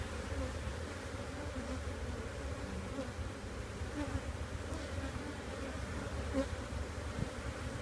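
Honey bees buzz in a dense, steady hum, many wings droning together at close range without pause, with no voices over the swarm.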